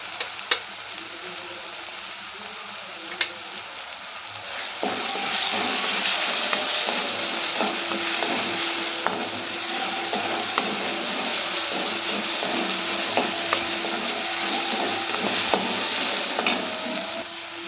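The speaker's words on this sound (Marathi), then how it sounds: "हिरवी मिरचीचा ठेचा चांगला परतून होतो" Green chili paste (thecha) fries in oil in a pan, a soft sizzle that swells louder partway through and then holds as a steady crackling hiss, with no voices.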